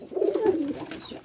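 A male pigeon gives a single close, soft, throaty coo, a low rolling call lasting about a second, alone without talk.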